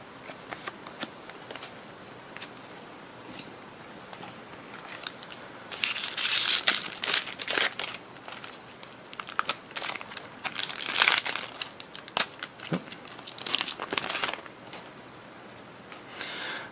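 A Magic: The Gathering Eldritch Moon fat pack is opened with crinkling wrapper plastic and tearing foil, close and busy in bursts after a quieter start, with no talk.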